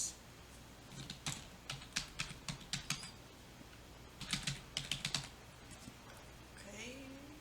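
Menu names being typed on a computer keyboard: quiet, close clusters of quick key clicks in two bursts separated by a short pause, with faint background hum and no talk.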